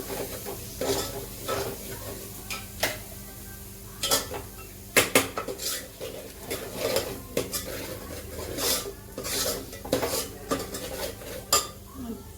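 Pav bhaji masala with red chili powder is sautéed in a pan, with an irregular run of metal spoon scrapes and clanks against the pan over a soft background sizzle.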